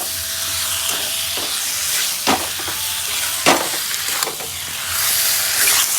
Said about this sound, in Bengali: মাংসটাকে কিছুটা নাড়াচাড়া করে ভালো করে কষিয়ে নেবেন।